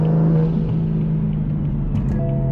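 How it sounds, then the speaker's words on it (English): A BMW M3 engine droning and rumbling steadily up close on a cold 33-degree day in Nebraska, its pitch rising slightly toward the end as it accelerates. "now let's take the M3 out for a little drive"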